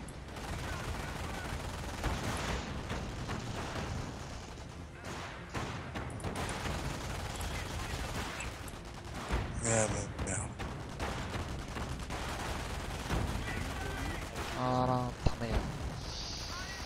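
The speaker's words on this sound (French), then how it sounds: "C'est les mitraillettes qui font le taf" Gunfire from machine guns in the strategy game Company of Heroes, with dense bursts and explosions crackling steadily throughout under continuous French talk.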